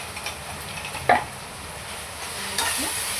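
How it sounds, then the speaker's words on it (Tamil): Chilli powder masala being sautéed in a pan, stirred now and then with a spoon, giving a faint sizzle with a few scraping clinks, close by and quiet. "இதையும் நல்லா வதக்கி விடணும்."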